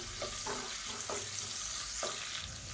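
Green chillies and broken cashews frying in hot oil in a pan for tomato pongal, a steady close sizzle with a few soft stirring scrapes and no voices.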